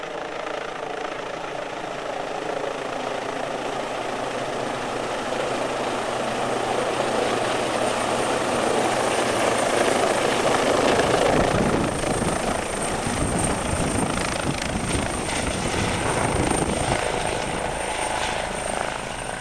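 Air ambulance helicopter of the Hampshire and Isle of Wight service running close by, a loud steady rotor roar with blade chop that swells and thickens near the middle and holds strong to the end.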